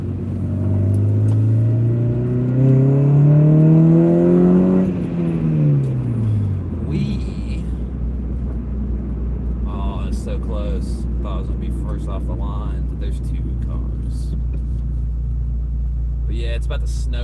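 A car engine revs up and drops as the gear shifts, followed by a steady low idle rumble with some light clicks and movement.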